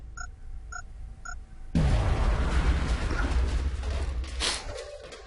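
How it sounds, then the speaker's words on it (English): Three short electronic beeps, then a heavy grenade blast erupts in the X-COM game, a loud close boom that settles into a long rumbling roar with a second burst near the end. "So they're going to get blown up by 2 grenades."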